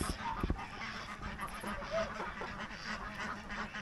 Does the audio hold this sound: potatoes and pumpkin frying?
no